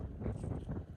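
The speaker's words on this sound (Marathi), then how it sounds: "वारा एक नंबर आहे" Wind gusting outdoors during a walk in the rain, a steady, loud low rumble buffeting the microphone throughout with no pauses.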